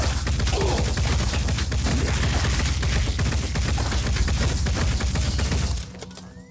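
Rapid gunfire in the turn-based tactics game Phoenix Point crackles loudly and continuously in dense bursts, cutting off near the end.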